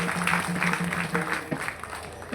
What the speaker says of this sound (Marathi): त्यांच्यासाठी पहिले टाळ्या वाजवा